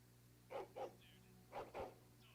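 A dog barks in the fantasy role-playing game Dragon Age: Origins, giving two close, loud barks, a pause, then two more in matching rhythm over a low steady hum.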